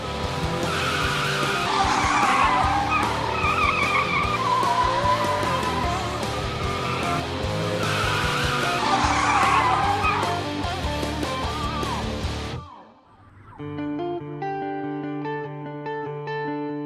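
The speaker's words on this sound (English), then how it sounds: "We got a lot of performance cars out here on the track" Performance cars racing on a track with tires skidding: loud, continuous screeching squeals over roaring engines, then an abrupt cut to a steadier engine drone.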